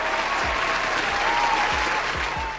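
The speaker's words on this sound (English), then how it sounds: "So we'll give them a round of applause," A large audience applauds in a dense, sustained wash of clapping that holds at a steady level throughout, with a few low thumps underneath.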